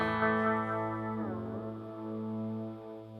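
Sustained distorted guitar tone from an ambient distortion pedal washed in delay and echo, with a swooping pitch bend midway, played alone without voices.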